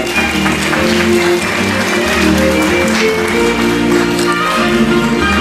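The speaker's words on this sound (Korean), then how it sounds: "다시 한번 큰 박수 부탁드리겠습니다" Large audience applauding at a foundation launch ceremony after a goodwill ambassador appointment, steady dense clapping throughout with a low background hum and faint voices.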